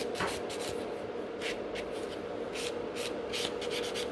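A nail buffer rubbing across fingernails during a coffin-shaped fiber gel extension job, giving quiet, repeated scratchy strokes in an uneven rhythm, close up against a low background hum.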